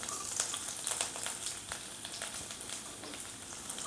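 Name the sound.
garlic frying in hot oil for prawns chilli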